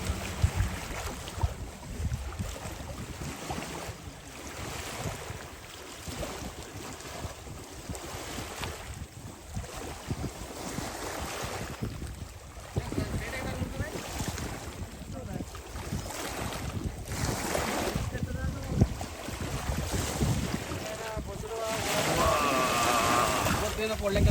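A fishing boat's engine drones over wind noise and lapping water, growing gradually louder toward the end as it approaches, with people talking at times.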